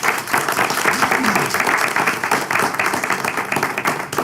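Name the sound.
audience applause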